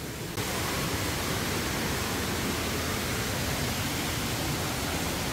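A mountain valley stream with many small waterfalls at Yumyeongsan in Gapyeong rushes in a steady, dense wash of water noise, loud and unbroken after a brief quieter start.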